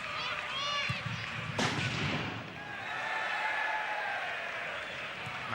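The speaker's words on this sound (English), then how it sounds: "Very loud firework or something went off there in the background." A single loud firework bang cracks sharply in a stadium crowd during the Shamrock Rovers v Kerry FC FAI Cup semi-final, standing out briefly above the steady crowd din.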